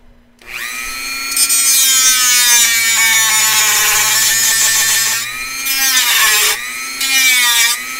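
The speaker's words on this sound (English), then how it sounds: "Dremel warning." A Dremel rotary tool whining loudly at high speed, close by, with a steady tone that dips in pitch as it bites into the work, followed by two shorter bursts near the end.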